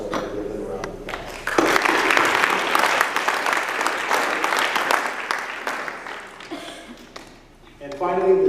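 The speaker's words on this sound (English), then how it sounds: "So I'm going to give them a round of applause." A room gives a round of applause for students at a school board meeting. The clapping is loud, steady and sustained, with a speaking voice before and after it.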